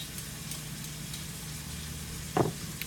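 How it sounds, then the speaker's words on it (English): Vegetables sauté in hot oil with a faint, steady sizzle, quiet and close, under a low background hum, with a brief clatter near the end. "You can hear those veggies sauteing up nice in the oil"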